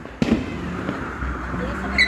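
New Year fireworks in Key West give a sharp nearby bang followed by a rumbling, crackling tail, under street noise and voices.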